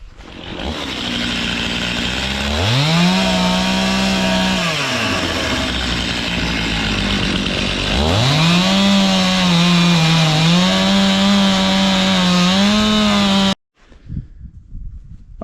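A chainsaw cuts points on the ends of 4x4 wooden posts, its engine revving up loud and close, bogging and steadying under load through the cuts, then cutting off abruptly near the end.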